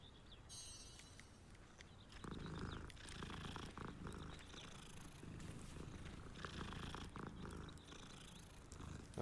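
A magical cat in the video game Hogwarts Legacy purrs in a soft, steady, continuous rumble for several seconds, with faint footstep-like patter underneath.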